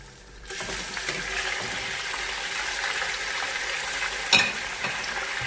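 Meat hitting golden fried onions for aloo gosht gives a steady, fairly loud broadband sizzle throughout, with a sharp clatter near the end, and no voices.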